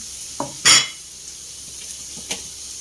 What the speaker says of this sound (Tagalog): Halo-haloin lang natin ng konti.